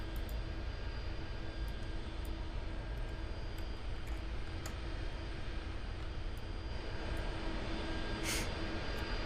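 An aircraft engine drones steadily and evenly while taxiing in the video game Aeronautica, a constant, fairly loud hum with a few faint clicks and no speech.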